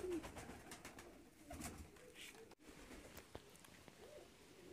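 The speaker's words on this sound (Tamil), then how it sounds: "நல்ல பெரிய புறாக்கள்." Large ornamental fancy pigeons coo softly and fairly close, with low murmuring calls over faint background noise and a brief dropout midway.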